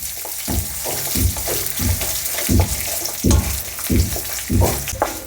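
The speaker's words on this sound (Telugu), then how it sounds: "ఎండిమిర్చి వేసేసుకొని వీటిని కూడా దూరగా వేపుకుందాం" Dry red chillies frying in hot oil for a tomato chutney, a continuous crackling sizzle with a rhythmic series of low thumps from stirring, close and fairly loud.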